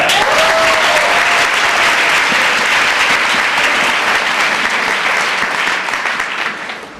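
Loud, sustained applause from a large audience at a year-end church convention, a dense wash of clapping that holds steady for several seconds before starting to fade.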